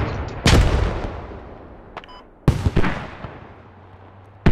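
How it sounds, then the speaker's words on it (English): Explosions in a multiplayer shooter game with 20v20 teams, two heavy booming blasts with rumbling tails, a sharper crack between them and another blast starting at the end. "was that your C4?"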